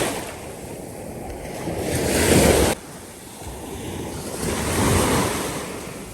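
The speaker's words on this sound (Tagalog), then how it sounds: "Pihira yung alon ngayon, hindi katulad nung unang araw na punta namin dito." Ocean waves break and wash onto a beach in Mindanao, a loud roaring surge that swells, drops off sharply, then builds again, with wind buffeting the microphone throughout.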